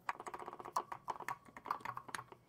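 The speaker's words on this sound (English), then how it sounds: "And there is a little bit of key noise, which is quite normal." Mechanical key noise from a Suzuki M37C Melodion being pressed without blowing, a rapid run of close, dry clicks and taps in an uneven rhythm, moderately quiet and alone.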